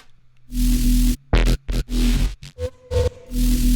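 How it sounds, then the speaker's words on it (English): A warbling synth bass tone creaks like an old door, sounding in short bursts over a thumping low groove, fairly loud with no voices. "it kind of sounds like a weird little door creak"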